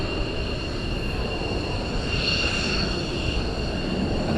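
A military jet taxis at RAF Lakenheath, giving a steady, loud, high-pitched turbine whine over a broad continuous roar that swells slightly midway, with no voices.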